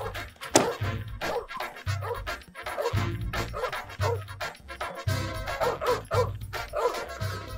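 A dog barks and yelps in a Turkish comedy film scene, with repeated loud, close barks and whimpering yips coming in quick bursts over several seconds.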